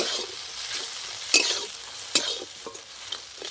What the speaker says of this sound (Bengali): এবার খুব ভালো করে কিছুক্ষণ নেড়ে চেড়ে নেবো যাতে মশলা থেকে তেলটা বেরিয়ে আসে।